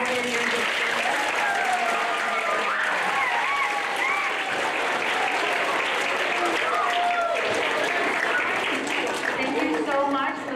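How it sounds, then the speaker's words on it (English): A roomful of people applauds veterans at a school Veterans Day event, sustained loud clapping with voices and cheers mixed in throughout. "give them a round of applause for all their years of service"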